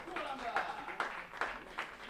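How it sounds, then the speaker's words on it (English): Spectators at a women's skeet shooting final applaud in a moderate, distant patter with periodic louder swells, under a commentator's talking. "who's applauding along with the rest of the spectators"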